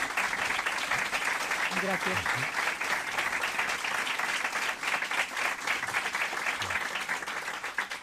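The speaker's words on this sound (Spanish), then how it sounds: "lo recibimos, por favor, con un fuerte aplauso" Sustained audience applause at a talk welcoming a speaker, a steady dense wash of clapping filling the whole stretch, with a brief voice speaking over it partway through.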